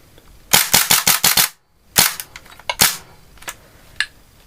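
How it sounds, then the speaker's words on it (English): Airsoft pistol firing BBs: a quick string of about six sharp, loud cracks, followed after a short pause by several more scattered shots and a few fainter clicks. "So there's quite a crack off this pistol."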